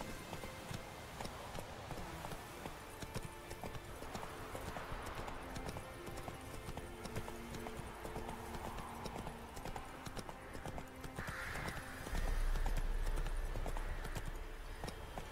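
Hooves of a galloping horse in the video game The Witcher 3 beat in a fast, continuous clip-clop rhythm over a busy game soundscape, with a brief louder swell near the end.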